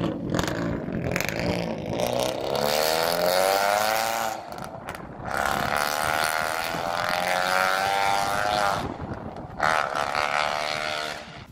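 A loud car engine revs hard in repeated long surges with brief dips between them, close and forceful, over wind noise.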